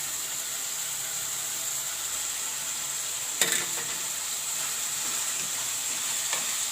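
Crushed green chili, ginger and garlic frying with softened tomato in a pan, a steady close sizzle and hiss throughout, with a brief clatter of stirring midway and no talk.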